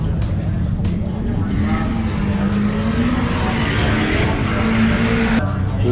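A drag racing car rumbles loud and close in the pits at a roll racing event, with a steady heavy engine drone and faint tonal whine throughout. Background crowd noise and voices mix in.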